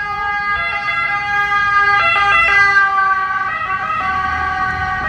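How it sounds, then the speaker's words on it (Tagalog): An approaching ambulance siren in Italy wails steadily and loudly, its tone rising and falling close by, with road traffic rumbling underneath. "Ay parating na ambulansya."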